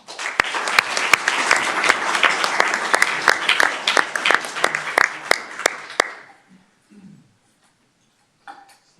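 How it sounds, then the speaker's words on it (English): Loud applause at a city council meeting as an officer is welcomed, sustained clapping with sharp individual claps for about six seconds before stopping abruptly, followed by quiet room noise and brief faint sounds. "the applause just keeps going until I actually make it up to the podium"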